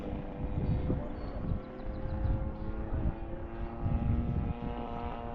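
A blue and yellow radio-controlled biplane with a 50cc engine drones steadily overhead, a constant buzzing hum with slight swells as it flies at a moderate distance.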